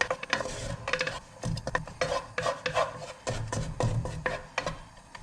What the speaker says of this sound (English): Just work those around until they've got a light coating of the oil on them